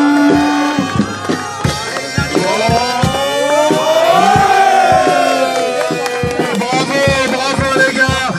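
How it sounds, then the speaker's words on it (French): A crowd at a village football trophy ceremony for La Chapelle-Neuve, Morbihan, cheers and chants loudly. Rhythmic claps and thumps run throughout at steady strength. "Accueillons l'applaudissement."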